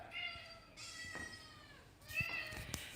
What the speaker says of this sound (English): Cats are here too, of course.